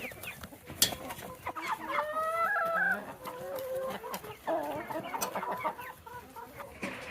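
Several chickens cluck and crow nearby while pecking at sunflower heads tossed to them, with overlapping calls coming in bursts and a bit of talking in the background.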